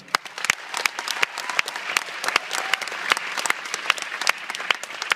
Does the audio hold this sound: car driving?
no